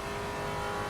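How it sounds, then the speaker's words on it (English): A Maserati race car engine on the Kyalami circuit during a rookie league round, a loud, sustained close engine drone with steady revving and no talk over it. "You guys just want to hear the sound of this Maserati."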